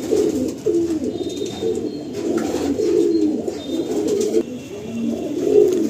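Pécha-mukha (owl-faced) breed pigeons, including an adult bird, coo in low, throaty, repeated rolls that sound close and continuous, with no voices over them.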